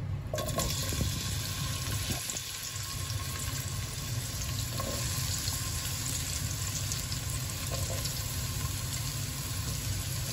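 Onion frying in oil with cloves, cinnamon and cardamom for an egg curry, giving a steady, close sizzle with occasional stirring scrapes that runs unbroken for the whole stretch.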